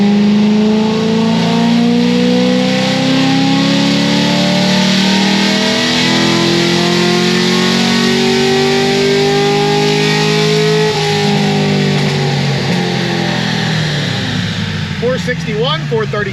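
Cammed LS3 V8 in a C6 Corvette Z06 roaring through a sustained wide-open dyno pull, loud, steady harmonic engine note climbing and holding for the full run, with a brief voice near the end.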